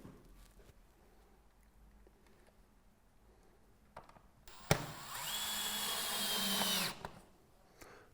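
A power drill drives bracket screws into aluminium flashing on a Velux top-hung roof window, with quiet handling clicks, then one short whining burst lasting about two seconds, close up.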